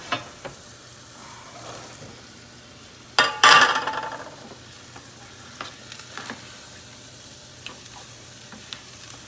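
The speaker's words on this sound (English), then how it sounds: "So these are 200 grams of kala chana that I'm going to add." Boiled, salted black chickpeas (kala chana) drop into a hot pan of desi chana masala and burst into a loud sizzle, which then fades to a softer, steady frying hiss with faint stirring clinks.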